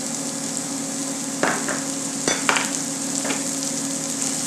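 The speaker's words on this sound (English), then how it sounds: "we're going to start off by adding some of these shallots right to the pan" Chopped shallots sizzling in a hot pan at the start of a white wine sauce, a continuous close hiss broken by a few brief clinks and stirring scrapes, with no talking.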